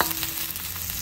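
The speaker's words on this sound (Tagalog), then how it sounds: "So, isote natin ang ating ginger para mas masarap" Ginger sautéing in a pan for ginataang crab with squash, giving a steady, close, dense frying sizzle with soft crackles and no talking.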